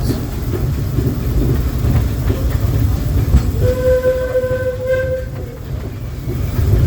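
Disneyland Railroad steam train with the No. 1 C. K. Holliday locomotive and Holiday 5 Blue cars rolling on rails, a loud continuous rumble and clatter with a short whistle tone in the middle.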